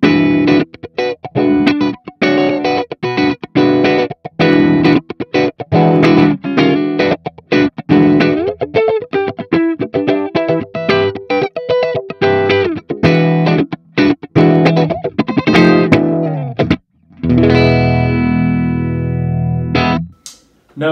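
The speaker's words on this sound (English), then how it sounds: "Next up, we have the phaser." An electric guitar plays through the phaser effect of a Cuvave Cube Sugar amp, with choppy strummed chords that sweep and swirl, ending on a sustained ringing chord.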